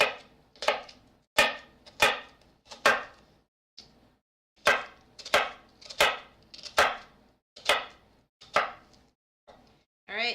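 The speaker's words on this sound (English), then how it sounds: "you can see while I'm cutting this that my fingers are curled under kind of like a claw" Knife chopping through broccoli on a cutting board at a home cooking demonstration, a steady series of crisp, close chops in an uneven rhythm with short pauses between strokes, no talking.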